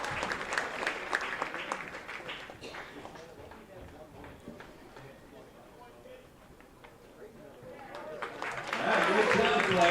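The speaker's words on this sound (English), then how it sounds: "Let's give her a big round of applause." Spectators at a minor-league baseball game between the Niagara Falls Americans and Batavia Muckdogs applaud a fan before the first pitch, crowd clapping swelling louder at the end beneath a public-address voice talking.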